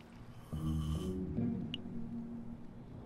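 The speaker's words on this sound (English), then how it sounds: "even his snore makes him sound like a man at all" A character in Minecraft Story Mode snores loudly and close by, a long rumbling inhale followed by a softer exhale, alone over quiet game background.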